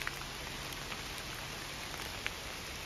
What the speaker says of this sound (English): Rainy nature vibes.